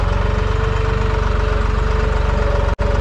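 A Deutz Fahr 55 F tractor's diesel engine runs with a loud, close, steady rapid thumping pulse and droning hum, briefly cutting out near the end.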